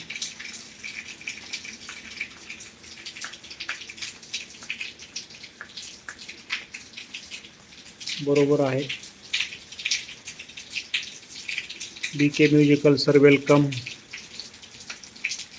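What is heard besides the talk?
heavy rain falling in Beed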